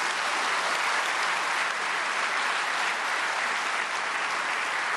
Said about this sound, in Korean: 박사님 박수로 환영하시겠습니다